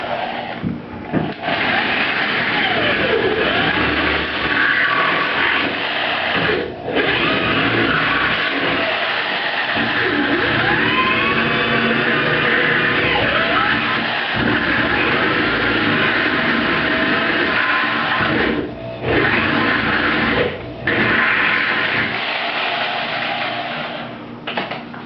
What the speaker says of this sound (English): I take a drill that has that 7/16 inch bit in it and I go all the way through